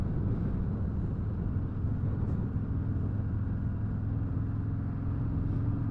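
A 2018 Harley-Davidson touring motorcycle in stock form, either a Road King Special or a Sport Glide, gets up to speed on a demo ride. It gives a constant, heavy, low engine rumble mixed with wind noise, close and unbroken, with no voices.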